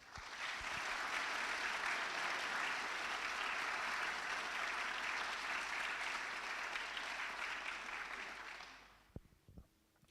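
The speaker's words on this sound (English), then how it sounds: "Please join me in a round of applause in honor of our distinguished guests." Guests at a military change of command ceremony give sustained, even applause for about nine seconds before it stops abruptly, leaving a few faint knocks.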